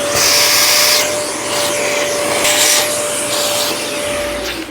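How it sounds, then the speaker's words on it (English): A vacuum cleaner runs steadily and loud during a plywood slatted wall build, its drone shifting slightly as the nozzle moves over the surface, with a constant high tonal whine throughout. "I'm going to get a vacuum on."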